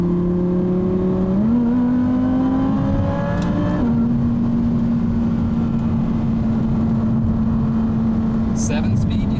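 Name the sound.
Can-Am Maverick X3 turbo engine revving and shifting gears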